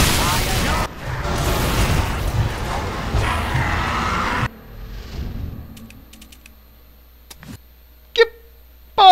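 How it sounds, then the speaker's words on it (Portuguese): Explosions in the video game Shadow Warrior, loud booming blasts with rumbling tails in the first half, then near-quiet with a few sharp bursts and a final loud hit near the end. "As explosões matam mais do que qualquer coisa nesse jogo."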